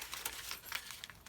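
A paper bag is folded up by hand in a quiet room, giving several soft, close crinkling and crumpling rustles in quick succession with no talking.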